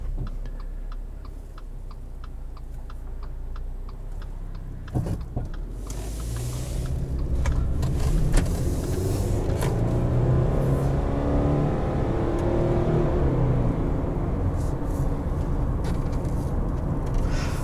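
Inside a 2021 Subaru Crosstrek Sport with a 2.5-litre engine and CVT, a turn signal ticks steadily at first, then the engine hum, tyre roar and cabin rumble grow as the car drives along.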